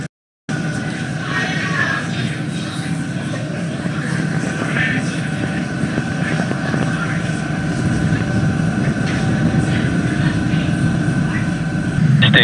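Falcon 9 first-stage engines roar steadily through an Axiom-1 crewed launch, a dense, sustained broadband rumble that holds loud from start to finish with a faint tonal hum riding on top, while a voice talks over it.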